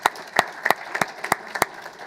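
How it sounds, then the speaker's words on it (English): Sparse clapping at a business luncheon on exporting Canadian goods, a handful of distinct, sharp claps spaced irregularly, close and moderately loud rather than a full room's applause. "Round of applause for them."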